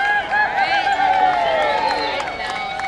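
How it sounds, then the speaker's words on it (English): Spectators cheering and whooping at a water entry event, where a costumed post-apocalyptic cockroach entry heads for the water, a dense, steady wall of crowd noise with voices mixed in. "lots of glory from the crowd for the post-apocalyptic cockroach"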